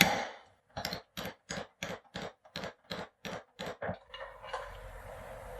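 Eleven evenly spaced sharp metallic taps drive a timing belt shaft into place on a Ryobi S430 four-cycle lawn trimmer, close and crisp, followed by a faint rustling of parts.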